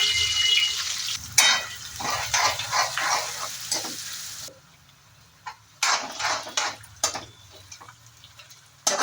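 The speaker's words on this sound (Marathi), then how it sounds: "मसाल्यामध्ये तेल टाकून कांदा टाकून घ्यायचा" Onion sizzles in hot oil with mustard seeds, crackling in bursts with short pauses and a few sharper pops and stirring clicks, close and moderately loud, with no talking.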